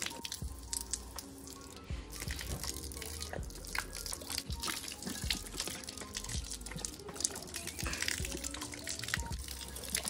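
Water sprays steadily over a horse during a hose-down after a ride, a continuous hiss with scattered drips and splashes, close and fairly loud, with no talking.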